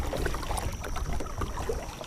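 A kayak is paddled on a lake, with quiet splashes and dripping water from the strokes and low wind noise close by.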